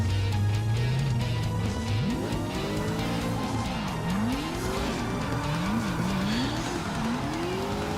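Cars in the CarX Drift Online video game drift with high-revving engines and sustained tire squeal, the engine pitch swooping up and down repeatedly under a constant skidding hiss.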